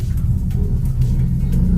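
A manual car's engine rumbles steadily at low revs as light throttle is applied while reversing out of a garage toward a main road, a continuous mid-level drone with slight swells and no talk.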